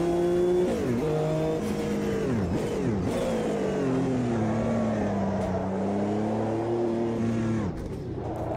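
Ferrari F512 BB LM race car engine in Automobilista 2 roars loud and continuous, revving up and down through repeated gear changes with a steady high-pitched whine, with no talk over it.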